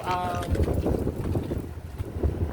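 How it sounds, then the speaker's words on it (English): Strong outdoor wind buffets the microphone in a steady, loud, low roar that rises and falls in gusts, with a person talking over it. "Ooh, the wind, damn."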